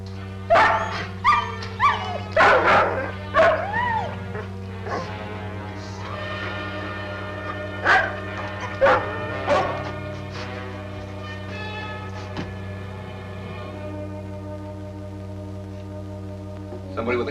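A collie dog barks in a burst of several sharp, close yips and barks early on, then a few more spaced barks and a whimper, over a steady low hum, with little else around it.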